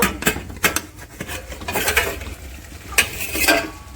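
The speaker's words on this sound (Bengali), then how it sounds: "ঢাকনাটা তুলে নেব" Lid lifted off a pot of simmering chicken curry with new potatoes, a series of close metallic clanks and scrapes over a faint steady bubbling.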